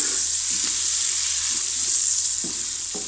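Carrots fry in a pan for Chinese-style rice, a loud constant sizzle that fills the clip with a few faint stirring knocks, close and without talk.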